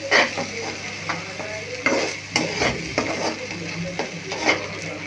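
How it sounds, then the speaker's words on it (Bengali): Dried tular dandi fish with spring onion leaves being stirred in a pan, a moderate sizzle broken by frequent close scrapes and clatters of a metal spoon against the pan. "এবার দিচ্ছি আমি কিছু পেঁয়াজ পাতা। আমি ভালোভাবে নেড়ে নিচ্ছি।"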